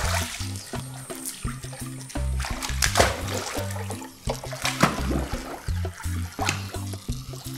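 Repeated splashes and sloshing as a toy speedboat sinks in a backyard pool, irregular bursts of water close by over a low background hum, with a child playing nearby.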